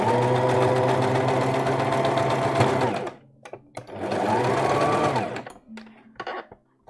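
A sewing machine stitches a sleeve seam in two loud, steady runs of about three and two seconds, separated by a short pause with faint handling noises.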